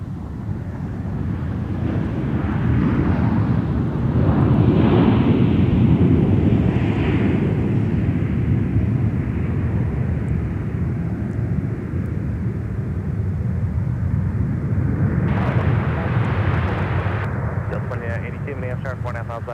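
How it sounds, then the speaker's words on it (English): A Delta Airbus A321 arriving from LAX touches down at an airport, its engine roar swelling and then holding steady, with wind buffeting the microphone and a loud burst of roar near the end. "about to touch down in front of us is Delta Flight 413 from LAX"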